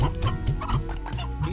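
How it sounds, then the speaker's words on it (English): Chickens cluck repeatedly in the video game Slime Rancher, a busy run of short, close clucks layered over steady game background sound with no talking. "There's lots of chickens around."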